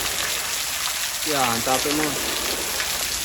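Steady rain falls throughout as a broad, even hiss, with a voice speaking briefly over it in the middle.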